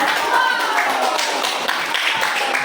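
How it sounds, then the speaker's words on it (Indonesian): Applause in a university Islamic studies class, a steady wash of many hands clapping throughout, with bits of talk or murmur mixed in. "Ya, tepuk tangan"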